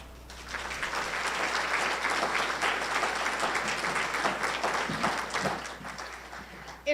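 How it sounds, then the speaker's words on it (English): Audience at a Heroes for Hope gathering applauding the clients, a full, sustained round of clapping that rises quickly and carries on steadily before fading near the end. "If we could please give another round of applause to the clients."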